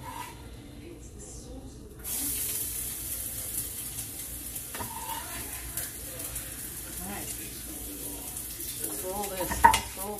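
Minced garlic hits hot olive oil in a pan and sizzles steadily after a quiet start, with light stirring and utensil clinks in a home kitchen.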